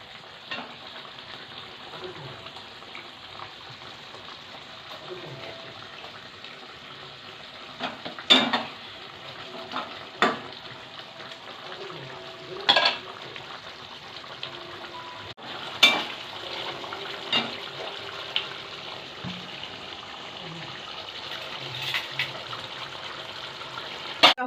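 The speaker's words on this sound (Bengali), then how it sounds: "ঘি দিয়ে আমি নেড়ে চেড়ে দিলাম তরকারিটা" Faint frying sizzle with occasional sharp scrapes and clinks as doi potol curry is stirred with ghee in a pan, the strokes sparse and spread out.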